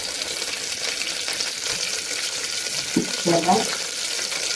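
Curry leaves dropped into hot oil with mustard seeds and green chillies crackle and fry with a steady hiss, a few brief bursts near the end, close and moderately loud, with a short spoken word over it.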